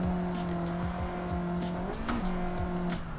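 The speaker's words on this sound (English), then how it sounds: "Oh, the sick skid." A stock Mazda Miata skids its tires while drifting in Assetto Corsa, a continuous screeching squeal layered over the steady engine drone, loud and close throughout, with no talk.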